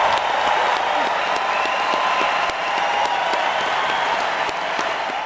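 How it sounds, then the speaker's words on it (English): A large crowd erupts in raucous cheering and applause, a dense, steady roar of clapping and voices that holds at full volume throughout. "the crowd erupts in raucous cheering"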